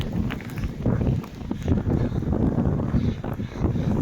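Strong side wind blasting across a snowy beach beside a stormy sea, a steady loud roar of gusting air with rumbling buffeting against the microphone throughout, no voices.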